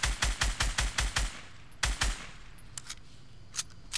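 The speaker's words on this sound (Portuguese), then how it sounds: "Acertei dois tiros nele já." Rapid automatic gunfire in Fortnite, a burst of about eight close shots followed by a couple more shots and faint scattered pops, with no talking.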